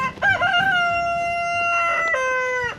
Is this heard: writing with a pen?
no